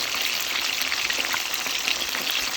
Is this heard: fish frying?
yes